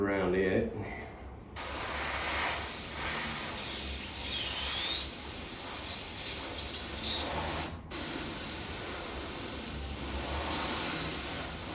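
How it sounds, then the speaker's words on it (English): An airbrush sprays paint onto a Harley primary belt drive, a steady close hiss that runs almost without a break, dipping out for a moment near the middle, with a short clatter before it starts. "What I'm kind of doing is pushing this down with the airbrush as well while I'm working it"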